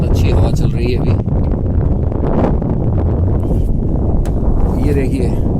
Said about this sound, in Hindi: बहुत अच्छी हवा चल रही है अभी।